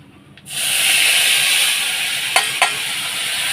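Chopped prawns drop into hot oil with black cumin and burst into a loud, even sizzle after a quiet moment, with two quick scraping stirs near the end and no voices.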